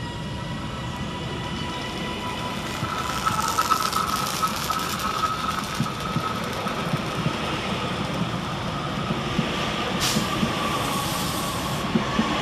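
An electric passenger train rumbles past close by, arriving at Woodsmoor station, with steady rolling noise, clattering wheels and a faint squeal, and no voices.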